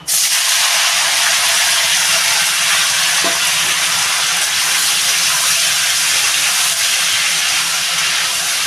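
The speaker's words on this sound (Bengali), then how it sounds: "আমি চাল কুমড়োটা ঢেলে দেবো" Ash gourd frying in a hot pan with cumin, a loud, dense, continuous sizzling hiss that runs unbroken throughout, with no voices.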